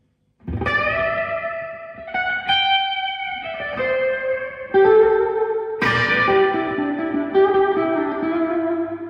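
Electric guitar played through a Carl Martin Headroom Mini reverb pedal with the reverb turned fully up, a series of sustained chords and notes blooming into a wide, washy tail, fairly loud and alone without voices.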